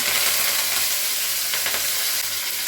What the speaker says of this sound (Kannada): ಈಗ ಎಣ್ಣೆ ಚೆನ್ನಾಗಿ ಕಾಯ್ದಿದೆ ಒಂದು ಕಾಲು ಸ್ಪೂನಷ್ಟು ಸಾಸಿವೆ ಹಾಕೋತಾ ಇದ್ದೀನಿ ಈಗ ಕರ್ಬೇವಿನ ಸೊಪ್ಪು ಹಾಕೋತೀನಿ